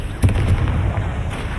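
A Bombarda explosion spell cast in Hogwarts Legacy goes off as a sharp, loud burst, followed by a rumbling, crackling aftermath with a fainter second pop near the end.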